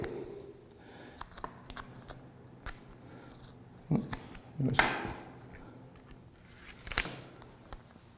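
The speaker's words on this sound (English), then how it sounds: "I will use the blade here, but very, very carefully just to score this tape to give me that clean edge right there." A blade scores and cuts masking tape on a Boba Fett helmet during painting prep, giving a run of sharp snips, scrapes and tearing ticks close up, with quiet background between the cuts.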